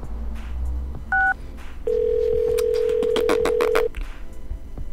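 A phone call is placed: a short two-tone dialing beep, then a long steady tone with a rapid burst of keypad-like tones, with faint room noise and no talk.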